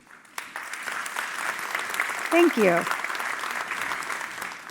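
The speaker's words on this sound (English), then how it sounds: "I think we should applaud that, shouldn't we?" Conference audience of about 2,000 people at a European digital industry event applauding steadily, the clapping continuing around a brief spoken phrase.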